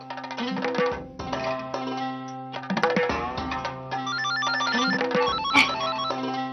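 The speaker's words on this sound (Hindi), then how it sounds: "शायद तुम्हारे लिए फोन आया।" A telephone rings in a family drama scene, its repeating electronic ringtone loud and steady with brief pauses between bursts, over a low sustained background tone, with no one talking.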